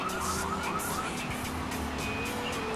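An ambulance siren in the video game GTA 3 wails steadily over a rumbling engine and traffic noise, its rising and falling tone holding at a moderate distance throughout.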